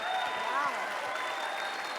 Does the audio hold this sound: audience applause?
yes